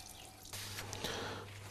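Water is poured a little at a time onto a jasper stone slab, giving a soft splash and faint dripping at close range in a quiet room.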